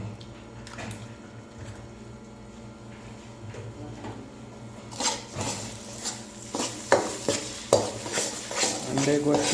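A spoon scrapes and clatters against a pan as eggs are mixed into semolina halwa, starting quiet and turning into loud, rhythmic stirring strokes with faint sizzling underneath.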